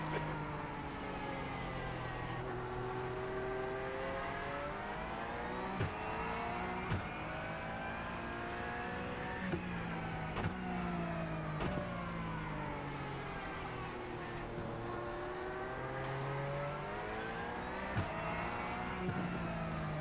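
Porsche 911 GT3 race cars at Tsukuba circuit, with engines continuously revving up and down through the gears as they lap. Loud, sustained, and close, with rising and falling pitch and brief dips at each gear change.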